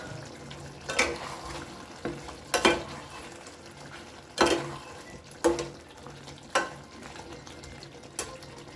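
A spatula stirs chicken and chopped coriander in a pan in about seven separate scraping strokes over a quiet background sizzle, no talk.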